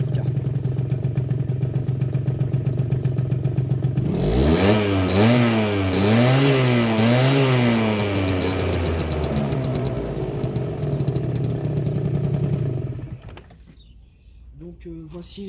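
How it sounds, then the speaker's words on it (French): A Piaggio Fly 50cc two-stroke scooter idles, then revs hard in several rising and falling bursts, a loud, buzzy whine close by, before dropping back to idle and fading. "Donc voici l'accélération de ce scooter qui est bien."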